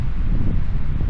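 Strong wind on the southern Oregon coast buffets the microphone in a loud, continuous low roar for a brief moment.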